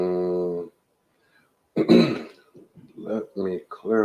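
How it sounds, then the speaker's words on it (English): Someone clears their throat loudly and close up in one harsh rasping burst with a few smaller rough follow-ups, after a moment of silence and between stretches of talking. "Let me clear my throat."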